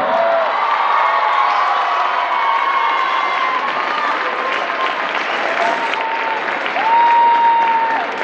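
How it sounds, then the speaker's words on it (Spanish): Sustained applause from a crowd at a school band concert, dense steady clapping with some cheering mixed in throughout. "con eso le damos un aplauso a la maestra Luz del Carmen Pastor."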